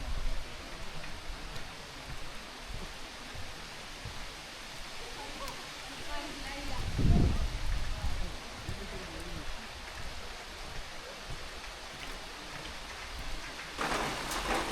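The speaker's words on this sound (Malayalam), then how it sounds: "പിന്നെ ഇപ്പം നല്ല മഴയും സാധനങ്ങളൊക്കെ വന്നുകൊണ്ട് തന്നെ സെറ്റാണ്." Heavy rain pours down at a jungle resort in the Nilgiris, a steady broadband hiss throughout, with a brief louder thump near the middle and a burst of brighter noise at the end.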